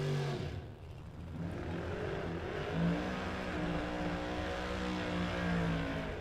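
Drag race cars, a Corvette and a small-block S10 with no power adder, accelerate down the strip, engine tones rising in pitch and settling into a steady, moderately distant drone.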